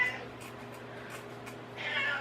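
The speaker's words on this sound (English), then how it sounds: "Oh, that's my kitty cat." A pet cat meows nearby, with one short meow at the start and a longer, louder meow at the end over a quiet indoor background.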